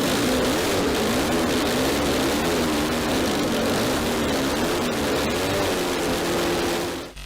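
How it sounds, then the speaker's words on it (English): A 12-rotor rotary engine runs at a loud, steady pitch with a dense, buzzing drone and a wavering tone, holding nearly constant before cutting off abruptly at the end. "The 12-rotor engine."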